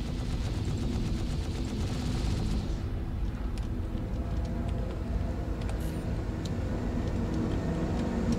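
Rapid ship cannon fire in the space game Star Citizen, a dense, continuous barrage of booming shots over a heavy low rumble, loud and unbroken for several seconds with no talking.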